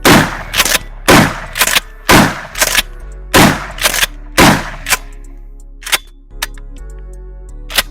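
Mossberg Maverick 88 pump shotgun firing extremely old Remington double-aught buckshot outdoors, a string of loud, sharp blasts in quick groups with pauses for pumping, then a few fainter, more spaced shots near the end.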